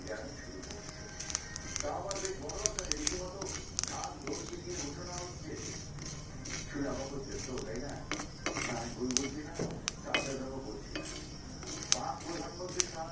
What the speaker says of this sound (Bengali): এখানে 1 কাপ চালের 4 ভাগের 1 ভাগ চালটা আমি ভেজে নিব